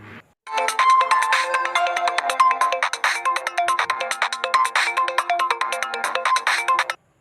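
A phone ringtone plays loud and close, a busy repeating electronic melody of rapid tones lasting several seconds before cutting off abruptly, with no voices.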